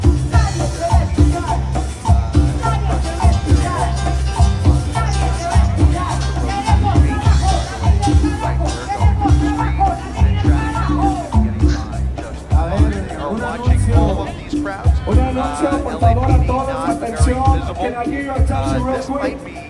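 Protest crowd of about 200 people waving Mexican flags in the street outside an immigration building, a steady dense hubbub of many voices with rhythmic pulsing bursts, loud and continuous throughout.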